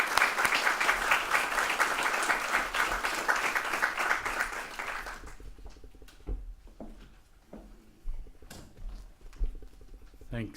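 Audience applause at a presentation welcoming Justice Peter McClellan, a dense burst of many hands clapping for about five seconds before fading into scattered room noise and a few faint knocks.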